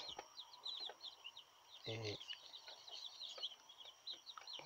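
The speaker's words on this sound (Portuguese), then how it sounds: "Esses pintinhos, eles estão com 10 dias" Ten-day-old chicks cheep in a busy, continuous chorus of high peeps, close and steady, with a brief low voice breaking in once.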